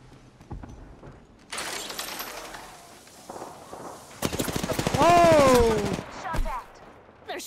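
Automatic gunfire rattles in the video game Apex Legends, rapid bursts that grow louder and denser midway, with a whistling game effect over the shooting and a voice talking in places.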